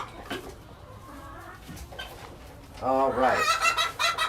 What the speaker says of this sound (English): show you the chickens that were from our incubation project here on the farm